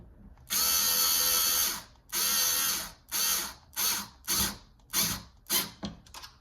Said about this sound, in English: Yeah, electric screwdriver